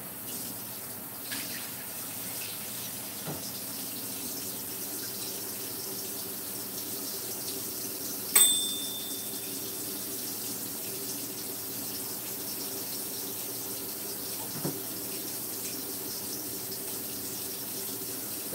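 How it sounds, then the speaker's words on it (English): Hot water running steadily from a kitchen tap, a faint, even stream of flow heard alone at a distance with a couple of soft clunks. "I'm gonna get the hot water up here and we're gonna need it."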